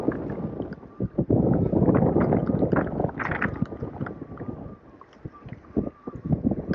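Gusty wind buffets the microphone in loud rumbling bursts, with water sloshing around a boat in a crowded harbor in high winds.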